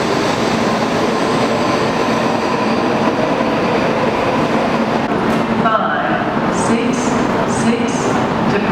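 A Japanese train sits at a station platform with a steady loud rumble of rail noise, a few brief high squeals and tones near the end, and faint voices in the background.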